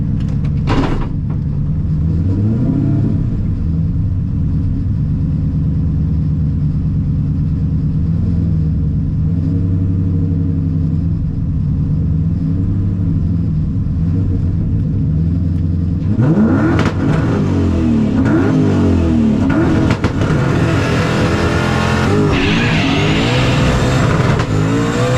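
A turbocharged race car on a new setup makes a pass, its engine a loud sustained roar that builds and rises sharply in pitch past the midpoint as it revs and accelerates hard, with no talk.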